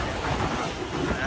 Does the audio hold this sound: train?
yes